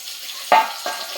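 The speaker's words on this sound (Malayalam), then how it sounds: "ഇതാട്ടോ താളിച്ചൊഴിക്കുകയാണ്." Hot tempering of fenugreek, mustard seeds and dried red chillies is poured into a homestyle mackerel curry, giving two quick splashing hisses, the first louder, over a faint steady background.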